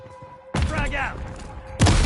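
Frag grenade explosion in a Call of Duty match: after a stretch of game chatter with a steady tone, a loud broadband blast hits near the end, with a voice speaking over the scene.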